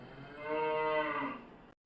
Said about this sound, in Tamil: பக்கத்து வீட்டில் பசுமாடு கட்டி போட்டிருக்காங்க.